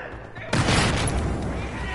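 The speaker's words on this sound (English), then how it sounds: "Grenade!" A grenade explodes in Battlefield 4 on the Shanghai map: a sudden loud blast hits after a brief quieter stretch, then a dense, sustained roar of battle noise carries on to the end.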